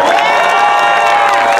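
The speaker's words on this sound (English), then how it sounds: "Let's give a big round of applause for the band" A crowd at a Fourth of July parade and celebration in Monterey, California, applauds and cheers for a band, with loud, continuous whoops and shouts over the clapping.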